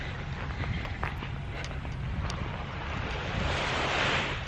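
Steady broadband surf of ocean waves at a beach during a red tide, a continuous wash with wind rumble on the microphone that swells slightly louder toward the end, no talking.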